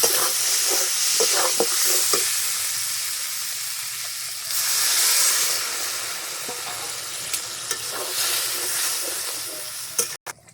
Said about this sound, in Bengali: বন্ধুরা আমার ঝোল ফুটে গেছে